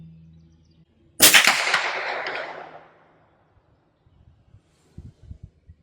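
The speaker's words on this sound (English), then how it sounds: "I'm going to try shooting at a smaller plate." A single .22 LR high-velocity hollow-point rifle shot at a small steel plate, a sharp crack followed by a long fading ring and echo, then faint clicks and handling noises afterward.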